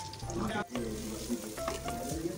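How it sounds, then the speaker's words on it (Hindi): Two sliced onions softening in half a cup of ghee in a pan, a steady close sizzle with a soft, continuous crackle throughout. "हाफ कप घी लिया है, 2 अदद प्याज स्लाइस कटे हुए।"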